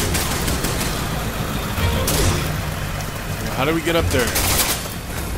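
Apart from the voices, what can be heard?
gunfire in video game Resident Evil 6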